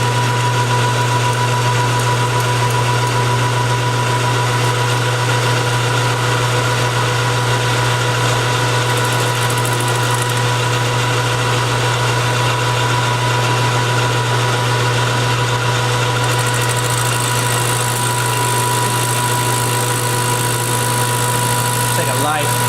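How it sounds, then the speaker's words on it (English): A metal lathe takes a light skim cut, giving a loud, constant motor hum with a steady mechanical drone that stays unchanged throughout, with a voice talking over it. "Take a light skim pass on that. Give us a good true surface to work with."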